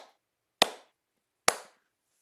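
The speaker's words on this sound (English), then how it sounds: "Clap your hands 3 times" Two sharp hand claps in an otherwise quiet room, about a second apart, each crisp and close with a short ringing tail.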